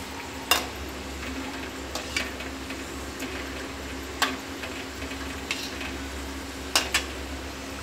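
Potato kachoris deep-fry in oil over medium heat with a soft, steady bubbling sizzle, broken by a few sharp, scattered clicks from a utensil against the pan.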